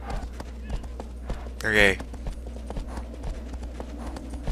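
Hooves of Argo, the horse in the video game Shadow of the Colossus, clip-clopping steadily in the game's mix, with a brief louder burst partway through and someone speaking briefly.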